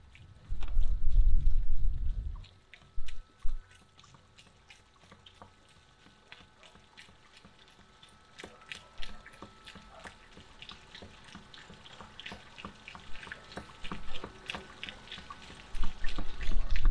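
Water drains from a caravan hot water system tank, gushing loudly for the first couple of seconds, then continuing as a fainter irregular trickle and splash before surging again near the end, with no talk over it.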